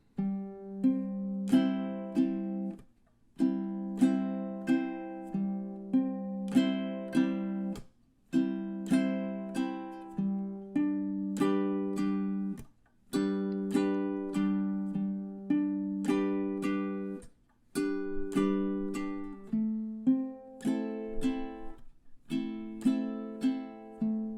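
A ukulele slowly strums chords in a steady pattern, each chord ringing out before the next, with short pauses between phrases.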